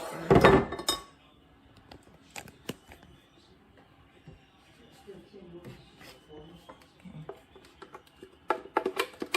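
Dishes clink as a thick non-dairy peanut butter smoothie with chia seeds is moved into a bowl: a loud knock at the start, then scattered light clinks and scraping, with voices chatting quietly underneath.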